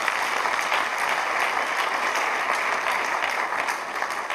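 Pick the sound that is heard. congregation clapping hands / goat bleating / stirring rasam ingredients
congregation clapping hands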